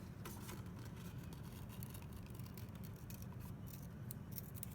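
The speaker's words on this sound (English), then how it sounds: "Cut it out. Right, following my lines carefully, doing nice tight cutting." Scissors cut paper along pencil-drawn lines for a paper mosaic, giving a quiet, steady run of close snipping and rustling that continues for the whole stretch with no talk.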